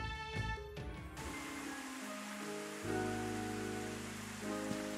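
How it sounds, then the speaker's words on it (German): Soft, steady rain in the Switch game Rune Factory 5, a faint continuous patter under the game's melodic background music, with no one speaking. "Ernsthaft, es regnet?"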